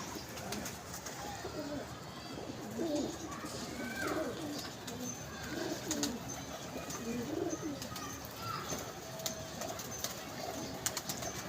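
Pigeons coo at a pigeon club, soft repeated rolling calls heard close by over a faint, busy background, with occasional quiet voices.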